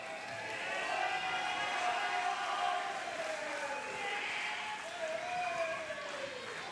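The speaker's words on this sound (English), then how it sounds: "Come on, guys, give him a round of applause." Outdoor crowd applause and cheering at a bike slopestyle prize giving, a steady broad wash of clapping held at an even level for several seconds with whistles and shouts over it.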